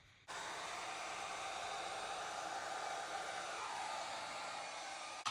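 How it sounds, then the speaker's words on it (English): A hair dryer with a large concentrator nozzle switches on and blows paint with a steady, close, rushing whoosh for about five seconds before cutting off. "my hairdryer has a really big concentrator on it"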